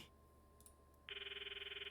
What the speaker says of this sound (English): call Mayuri's phone from my address book